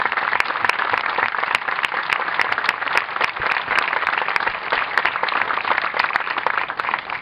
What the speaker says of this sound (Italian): vorrei che facessimo tutti insieme un applauso a due persone